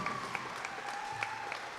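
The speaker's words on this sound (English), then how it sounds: "how about a round of applause for our seniors getting ready for their final graduation" An audience applauds graduating seniors at an evening honor day program, a quiet, steady wash of clapping with faint scattered claps standing out and no talk over it.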